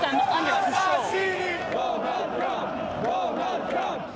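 Anti-capitalist protesters clash with police in Hamburg ahead of the G-20 summit, a loud massed crowd roaring and chanting in rising and falling waves that carry on without pause.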